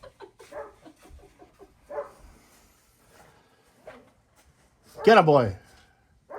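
A dog lets out a sharp, loud bark at a chipmunk near a cabin in March, after stretches of scattered quieter noises and a person speaking.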